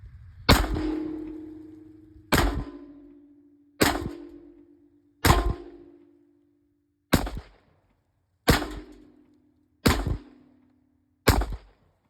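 Eight loud, close gunshots from a 1911 pistol chambered in .45 Super ring out one by one at about one-and-a-half-second intervals, each a sharp crack with a short ringing tail.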